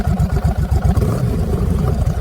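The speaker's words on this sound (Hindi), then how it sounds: "बात करते हैं इस बाइक के हार्ट की यानी इंजन की।" Royal Enfield Continental GT 650 motorcycle with a 2026 model parallel-twin engine, idling or revving with a steady, loud low rumble and rhythmic pulsing throughout, close up with no talking.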